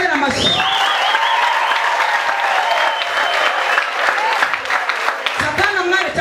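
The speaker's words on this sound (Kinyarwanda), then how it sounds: "abantu mu Imana tuyikomera amashyi" Church congregation applauding at a crowded worship gathering in Nyamata, steady dense clapping filling the space throughout, with a brief voice breaking in near the start and end.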